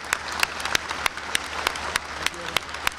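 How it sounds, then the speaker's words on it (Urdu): An audience applauds at an official event in Pakistan, a dense, steady clapping with sharper individual claps throughout, heard fairly close. "آپ تالیوں سے ان کی اور ان کی ٹیم کی بھرپور ستائش کریں"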